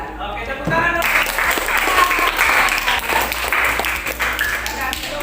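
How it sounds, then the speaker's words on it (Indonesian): A classroom of students gives a group a round of clapping after its presentation during a teaching-practice lesson. Brisk, close-sounding applause from many hands starts abruptly, stays lively for about four seconds, and has voices mixed in. "Oke, tepuk tangan."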